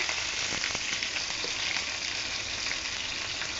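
Dried fish (shutki) fry in a hot pan with a loud, steady sizzle and faint crackles and pops scattered throughout; no one speaks.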